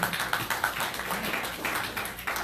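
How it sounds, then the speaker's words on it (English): A Rotary meeting audience in North Fresno gives a round of applause for a speaker, a dense, steady patter of many hands clapping at moderate distance, with no talking over it. "Let's give her a round of applause, everyone"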